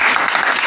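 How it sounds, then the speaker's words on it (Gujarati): Crowd applause greeting a performer at a Diwali comedy show: a short, loud, dense burst of many hands clapping, steady throughout with no talking. "તાળીઓ."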